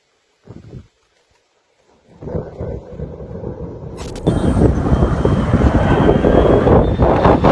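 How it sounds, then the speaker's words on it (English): An airplane passes overhead at a campsite, a broad roaring rumble that builds from faint to loud and fills the sky, steady and sustained with no talking. "A plane flew overhead"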